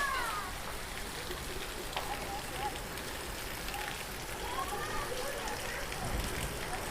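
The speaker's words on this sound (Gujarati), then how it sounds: "ભાઈ વરસાદ ને પવન આવે છે એકદમ" Monsoon rain and wind in Junagadh make a steady, dense hiss of downpour and gusts throughout, with faint voices and a few brief squeaky sounds in the background.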